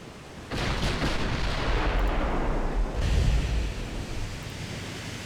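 Battleship guns fire in a World War II naval battle game, a sudden deep booming blast followed by a long roaring rumble, with a second heavy report about two seconds later.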